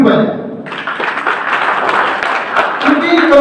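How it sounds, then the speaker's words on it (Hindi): People at a workers' union meeting clap together, a loud, dense burst of applause that builds after a voice and stays steady and close throughout. "मैं चाहूंगा कि आप सभी लोग अपने लिए एक ताली जरूर बजाएं"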